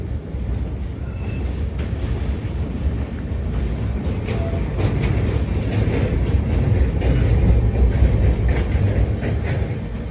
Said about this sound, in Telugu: Sanghamitra super fast express Danapur నుంచి ఎస్ఎంవిటి బెంగళూరుకి అయితే వెళ్తుంది బండి.